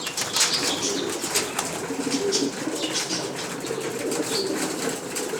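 A pigeon takes off and lands on a rooftop, wings flapping in a few quick bursts with soft cooing nearby, moderately close and with no talking.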